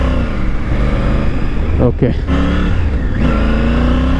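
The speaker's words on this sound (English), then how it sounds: "The engine sound is little different." A Triumph Tiger 900 BS6 motorcycle engine runs and revs close by, with engine tones rising and falling under a rider's speech and a brief spoken word.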